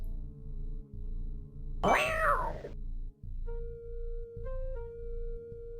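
A cat in King's Quest V gives one loud, drawn-out meow as it struggles inside a bag, over a looping rhythmic game music bed and a sustained synth tone.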